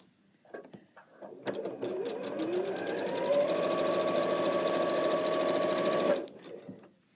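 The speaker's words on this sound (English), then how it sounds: "I'm going to slip this into my machine." A sewing machine stitches a fabric strip in a steady rapid run of needle clatter for several seconds, with short handling noises before and after, close and clear.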